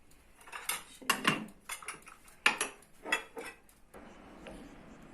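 Dishes, pots and cutlery being washed in a kitchen, heard as a series of clinking and clattering bursts at close range, loud then quieter, with no talking.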